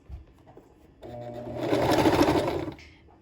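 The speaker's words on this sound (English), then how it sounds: "I'm gonna stitch forward just a few stitches" Sewing machine stitching fabric forward a few stitches, a close motor whir that starts softly, then swells into a dense rapid rattle for over a second before stopping, with no talk.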